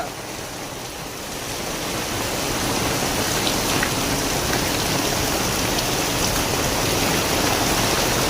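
Heavy rain pours down in a steady hiss that builds in the first couple of seconds, then holds loud and even with a rushing, wind-driven roar.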